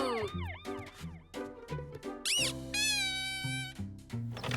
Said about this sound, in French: En plus, il a une sirène.